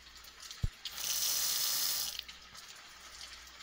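Water running from a tap to fill a pot for boiling in a cooking video game, a soft hiss of flow lasting about a second after a brief knock, fairly quiet.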